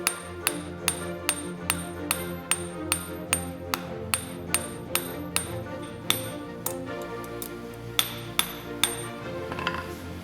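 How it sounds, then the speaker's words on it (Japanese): Regular, ringing metallic strikes of a hammer on a heated silver ingot, evenly spaced blows about twice a second, close and clear with no talking. "インゴットを熱して金槌で叩いて伸ばしていきます。"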